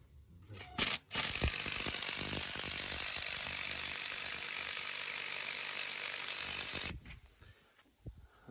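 A ratchet loosens nuts on a Volvo, first a brief click, then a rapid, continuous buzzing rattle of the pawl for about six seconds, close and fairly loud, ending abruptly.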